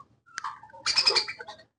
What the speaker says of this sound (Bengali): বার্জিগার পাখি হচ্ছে একটি অস্ট্রেলিয়ান পাখি